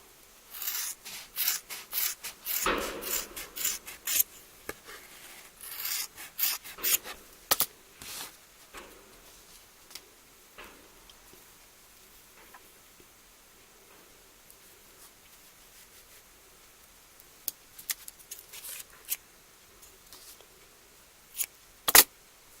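Yarn snipped with scissors to trim a piece for a handmade Christmas ornament, giving several close, dry rubbing and cutting sounds in short bursts with quiet gaps between.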